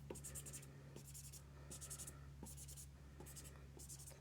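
Pen scribbling on paper on a journaling craft surface, with repeated bursts of scratchy strokes at a steady rhythm, close and moderately loud over a low steady hum.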